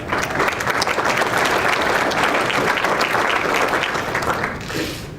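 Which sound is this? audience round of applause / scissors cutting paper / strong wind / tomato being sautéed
audience round of applause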